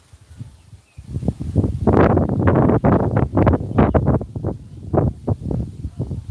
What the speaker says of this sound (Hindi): हाँ भैया, हवा चल रहा है, मोबाइल हिल रही है ना।